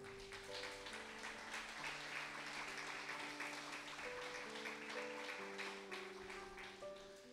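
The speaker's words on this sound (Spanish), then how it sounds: "Dale un aplauso al Señor." A church congregation claps in a sustained wash of applause, backed by steady held keyboard or organ chords that shift through the passage.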